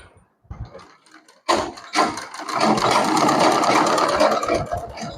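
A sewing machine stitches a seam around a neckline, starting after a few quiet clicks and handling sounds, then running in a steady, close, whirring mechanical drone.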